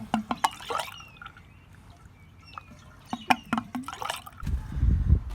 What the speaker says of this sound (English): There goes the water.